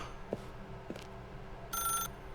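A telephone in The Stanley Parable rings once in a bright electronic burst near the end, after a couple of soft thuds, in a quiet room hum.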